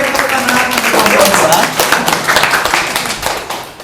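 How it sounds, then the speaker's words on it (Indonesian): Classroom applause for a student group after its presentation, a dense patter of many hands clapping at close range, steady for a few seconds with voices mixed in before it begins to taper off. "kita berikan tepuk tangan untuk kelompok"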